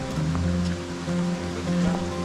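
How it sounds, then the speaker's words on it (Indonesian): A clear mountain river flows over stepping stones on the Candi Cetho route up Mount Lawu, giving a steady, close rush of water that carries on evenly with no voices. "Kita menyeberangi sungai."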